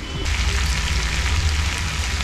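Potatoes drop into a hot pan already seasoned with red chilli and garam masala, giving a steady loud sizzle and crackle that fills the moment with no talk.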